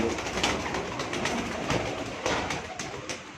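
Sialkoti-breed pigeons take off from a rooftop, giving steady cooing and wing flutter under a continuous outdoor hiss.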